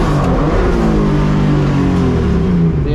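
A BMW E36 competition car engine revs hard and loud on a track as the driver misses a gear shift, going from second to first, with a sustained strained roar close up.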